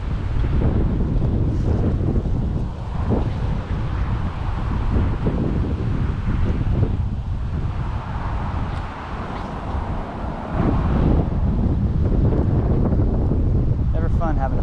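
Wind buffets the microphone beside a roadside creek during a tenkara fly fishing outing, a loud continuous low rumble with gusty swells and brief dips, steady throughout.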